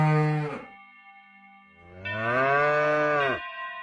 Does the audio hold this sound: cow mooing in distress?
yes